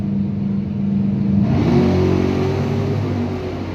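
At a Bonfire Salute drag race, a '68 Camaro and a Ford Fairmont launch off the line with loud, close engines revving and climbing in pitch, holding steady without any voices.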